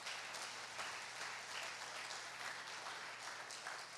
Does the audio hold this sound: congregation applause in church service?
yes